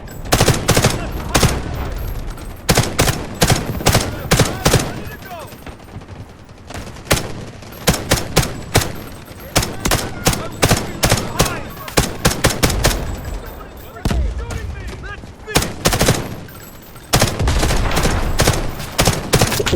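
Rapid gunfire rattles in the shooter game Delta Force Hawk Ops, loud, close bursts of automatic fire separated by brief pauses, with players occasionally talking between volleys.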